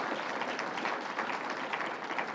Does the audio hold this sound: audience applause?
yes